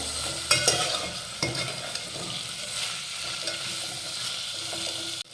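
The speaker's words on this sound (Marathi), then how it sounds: "असे कच्चे शेंगदाणे घातले की भाताबरोबर खूप छान शिजले जातात आणि चवीला पण खूप छान लागतात तर आपण हे व्यवस्थित परतून घेऊया" Raw peanuts sautéed in a pan for Maharashtrian masale bhat crackle and sizzle steadily, with a few sharp clanks of a spoon against the pan near the start, close and moderately loud, with no talking.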